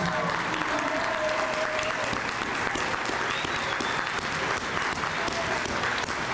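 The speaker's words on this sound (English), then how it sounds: "let's have a big round of applause" Audience of family and friends applauds fire recruits at a city fire bureau graduation ceremony, a steady, dense wash of clapping that stays loud and even throughout, with faint voices mixed in.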